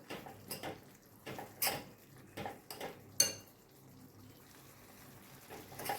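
Drumstick pod curry with a gram flour masala is mixed in a pan, giving a series of quiet, irregular spoon scrapes and metallic clinks against the cookware, spaced apart with soft pauses in between.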